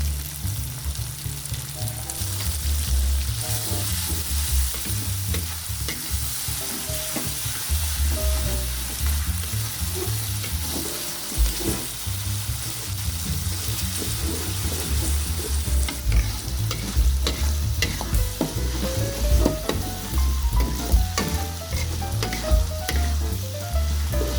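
Balado spice paste with palm sugar sautéing in a wok, giving a steady, close sizzle with frequent scraping stirs throughout and no voices.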